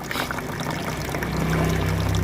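A steady stream of acid and water pours into the blocked pipe of an instant gas geyser. It keeps up an unbroken, close, fairly loud gushing flow for the whole stretch.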